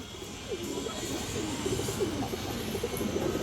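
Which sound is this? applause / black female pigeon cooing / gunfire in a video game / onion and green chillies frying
black female pigeon cooing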